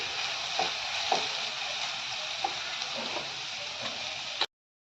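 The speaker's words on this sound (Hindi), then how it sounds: "अब इसे अच्छे से हम भून लेंगे।" Ginger, garlic and green chili paste frying in a pan over a medium gas flame, a steady close hiss of sizzling with soft stirring scrapes on top, ending abruptly.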